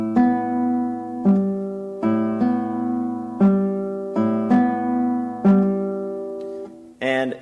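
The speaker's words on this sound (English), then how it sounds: "we're going to use a staggered rhythm through the entire arpeggio" Fingerpicked guitar arpeggio played in a staggered rhythm across thumb, index, middle and ring fingers, a steady chain of plucked notes overlapping and ringing, close and solo, ending with a brief scrape at the end.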